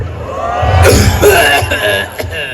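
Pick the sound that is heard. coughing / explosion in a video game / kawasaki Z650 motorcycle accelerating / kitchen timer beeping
coughing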